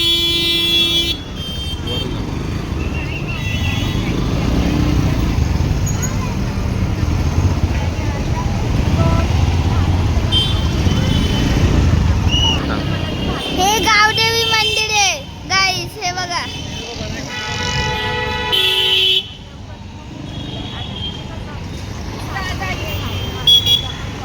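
A busy four-way crossroads hums with steady car and motorcycle traffic, and a cluster of short horn toots cuts through partway along. Several voices, including a child's, talk over the continuous road noise.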